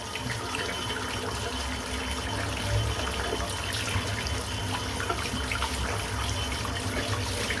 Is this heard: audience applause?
no